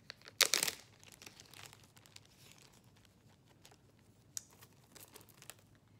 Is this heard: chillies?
no